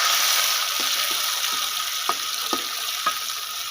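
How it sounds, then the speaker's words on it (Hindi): Green chilli paste, with garlic and ginger paste, is stirred into chicken handi cooking in a pot, a steady loud sizzle broken by several soft scraping knocks from the spoon. "हरी मिर्च का पेस्ट तो अच्छी तरह मिक्स कर लेंगे।"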